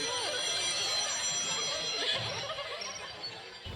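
A Ryuichi Sakamoto ringtone plays as a bright cluster of chiming, bell-like electronic tones, steady and moderately loud, with faint voice-like sound in the background.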